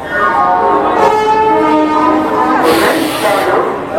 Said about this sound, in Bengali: এই ট্রেনটা মেদিনীপুর থেকে আসছে